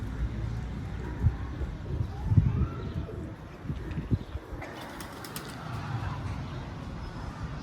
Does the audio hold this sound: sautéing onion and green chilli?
no